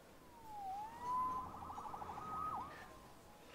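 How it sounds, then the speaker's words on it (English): A police siren in the game Marvel's Spider-Man wails with rising and falling sweeps, moderately distant and steady over a low background hum, with no talking. "Saved by the siren."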